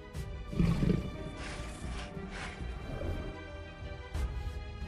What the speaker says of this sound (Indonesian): terdengar suara auman binatang buas yang semakin mendekat ke arah mereka. Dan ternyata itu adalah seekor harimau yang sudah menjadi zombie